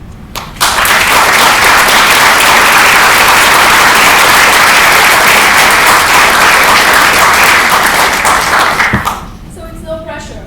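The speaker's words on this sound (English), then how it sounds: "Let's give a hand of applause to the faculty, the amazing faculty that led us there." A commencement audience applauds the faculty in a long, loud, dense burst of clapping that swells at once, holds steady for several seconds, then fades out.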